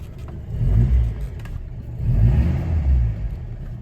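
A 1967 Alfa Romeo 1300 Giulia ti engine pulls away in gear, two swelling surges of low, throaty engine note rising and settling, close and steady with no talking.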